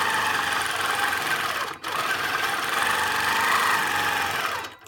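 A longarm quilting machine stitches clamshell curves guided by a ruler, a steady loud mechanical whir running almost the whole time, broken by one brief pause near the middle and fading at the end.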